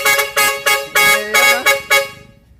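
Loud Jet Inoue dual car horn blasting in a quick series of about six short honks, close and clear, with no talking over it.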